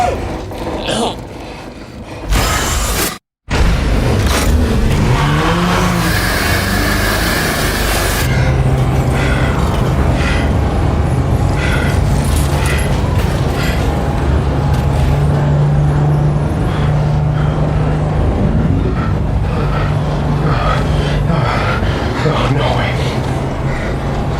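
A car driving along a road in a horror movie trailer, a loud continuous engine and road rumble with a steady hum, following a brief sharp cut near the start, with talk over parts of it.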